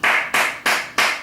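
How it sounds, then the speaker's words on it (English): Four sharp, evenly spaced hand claps ring out loud and close, each a bright burst that fades before the next, with no voices. "Round of applause."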